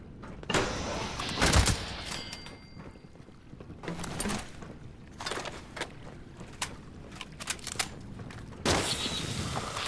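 Bursts of gunfire from the game Fallout 76, sharp broadband cracks arriving in scattered clusters with pauses between, fairly close and loud against a steady ambient game background.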